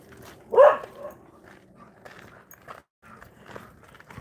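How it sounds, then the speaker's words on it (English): A dog barks once outdoors, a short, fairly close woof, followed by quieter rustling and faint movement in a suburban garden. "Got more doggies out here."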